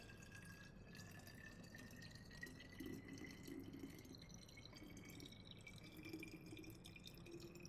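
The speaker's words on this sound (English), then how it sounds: "Then you pour that whole mixture." Root beer yeast mixture being poured into a bottle, a quiet, steady liquid trickle with a rising filling tone and small drips, faint and continuous with no voices.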